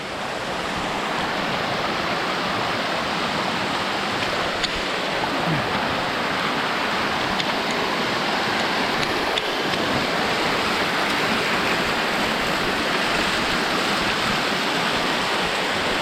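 Tumpak Sewu waterfall roaring as a continuous, dense rush of falling water, loud and steady throughout with no breaks, nearby and unaccompanied by talk.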